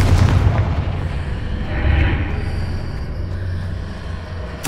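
Confringo fire spell blasting in the video game Hogwarts Legacy, a loud booming explosion with rumbling low end that swells and fades over a few seconds, close and alone without talk.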